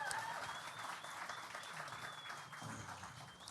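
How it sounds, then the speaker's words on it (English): A continuous wash of applause from an audience at an indie game awards ceremony, steady and fairly even throughout, with a faint whistle or tone running over the clapping. "And one more massive round of applause, please, for our"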